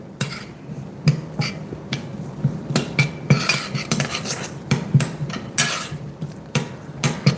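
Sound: dry roasting in a pan

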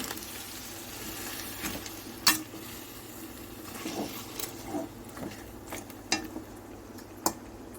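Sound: boiled country chicken meat frying in oil

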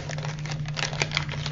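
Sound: opening packaging of water sachets

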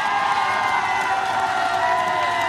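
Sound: concert crowd applauding and cheering

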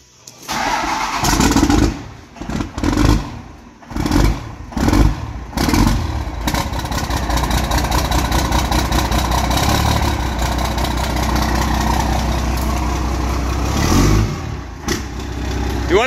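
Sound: 12 valve Cummins diesel engine starting and revving in dually truck

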